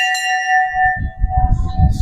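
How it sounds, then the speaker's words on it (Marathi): A temple bell rings at the Shri Vighnahar Ganpati temple in Ozar, with a strike followed by a long, clear sustained hum. Crowd shuffling and murmur rise beneath it in the second half. "घंटा वाजत."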